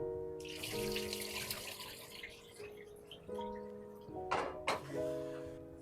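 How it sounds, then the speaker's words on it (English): Jasmine rice is washed in a kitchen under a running tap, with water flowing, splashing and swirling in short bursts and a few louder sloshes near the end, close by and moderately quiet. "I'm gonna wash the rice."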